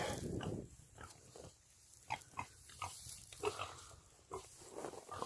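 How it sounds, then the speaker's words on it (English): Several pigs feed on thawed freezer-burnt meat, fish, steaks and chicken at a farm, giving intermittent grunts, snuffles and chewing noises close by with quiet gaps between. "So the pigs were eating really good."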